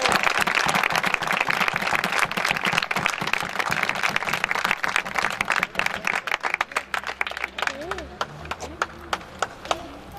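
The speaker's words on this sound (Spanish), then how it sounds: "siento el aplauso de la gente" Theatre audience applauding during a staged outdoor theatrical route in Zalamea de la Serena, Spain: dense, sustained clapping that thins out toward the end, with voices and sparse claps remaining.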